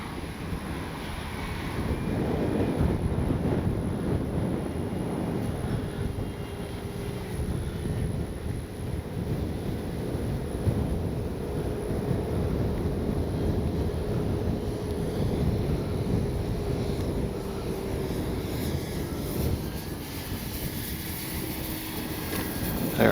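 RC P-47 Thunderbolt model airplane doing a touch and go on a windy field, a steady engine drone running throughout under heavy wind rumble against the microphone.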